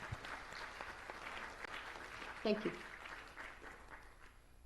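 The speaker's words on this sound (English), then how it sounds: "let us give a round of applause to a professor from Germany" A symposium audience gives a faint, distant round of applause that ripples softly throughout, while a voice speaks briefly over the clapping.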